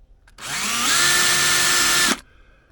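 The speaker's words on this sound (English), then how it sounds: "now I'm drilling my 1/16 of an inch" A power drill bores a 1/16-inch pilot hole through a Lexan crawl space vent cover, for No. 6 stainless steel screws. One close, loud, steady whine runs for under two seconds and then cuts off sharply.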